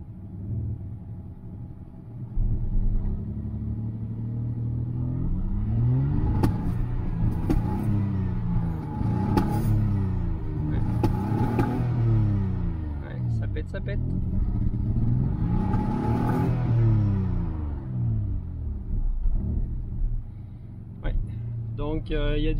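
A Citroën XM V6 engine idles roughly with an ignition or injection misfire, its low uneven rumble surging and sagging in repeated waves for over twenty seconds, close and steady, while someone talks over it.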